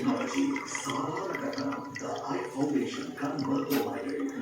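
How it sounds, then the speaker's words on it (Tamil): Water drains and pours off from a clay lentil pot while preparing a breakfast dish, a continuous splashing, trickling flow heard close up, with people talking over it. "அதில் இருக்கிற தண்ணி எல்லாம் வடிச்சிட்டு"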